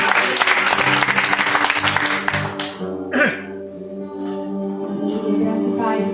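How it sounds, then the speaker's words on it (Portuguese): A church congregation applauds during a worship service, dense clapping that fades after a few seconds while music and a brief voice carry on. "Aplauda o Senhor."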